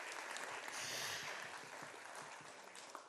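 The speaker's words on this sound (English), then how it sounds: "Round of applause for Marissa." A theater audience at a performance of Into the Woods claps for a costume intern, a dense, steady round of applause that fades slightly toward the end.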